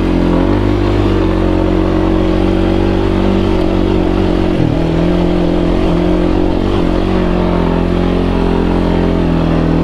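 A 2021 Kawasaki Brute Force 300 ATV with a CVT pulls away under throttle, its loud, steady engine drone holding close and constant, with a brief dip and recovery midway and a faint clatter over the rumble, with no voices.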